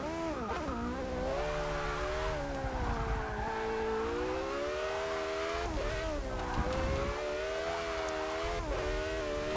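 Porsche race car from Forza Motorsport 6 accelerating hard around Virginia International Raceway, its loud engine note climbing and dropping through repeated gear changes in a continuous close roar, with no talking.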